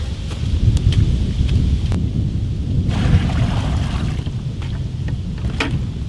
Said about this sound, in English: we're going to use the smaller bucket to collect water to transfer it up to a larger bucket